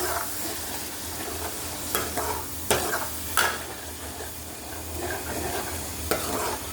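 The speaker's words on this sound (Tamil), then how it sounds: "தட்டி வச்சா இந்த பச்சை வாசனை போகிற வரைக்கும் இதை அப்படியே இதில் வதக்கணும்." Pounded onion and garlic sizzle in hot oil as they are sauteed for a fish curry, a steady close frying hiss broken by several sharp stirring scrapes of the spoon against the pan.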